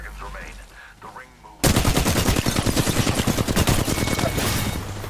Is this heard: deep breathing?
no